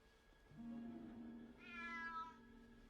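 A cat meows in a scene from the Harry Potter film, two drawn-out close meows in succession, the second rising higher, with quiet background and no talk over them.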